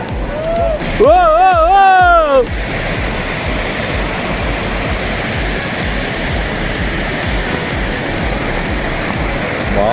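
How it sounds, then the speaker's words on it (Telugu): The forceful Pittalaborra/Tarabu/Gunjiwada waterfall thunders down from above in a loud, continuous roar. A voice briefly calls out over it at the start, then the heavy rush carries on alone. "ఆ ఫోర్స్కి ఆ పైనుంచి పడుతున్న జలపాతానికి వస్తున్న సూపర్ లేదంతా"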